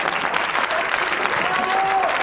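Studio audience on a Georgian late-night talk show clapping their hands, a steady dense wash of applause filling the clip while a voice speaks over it.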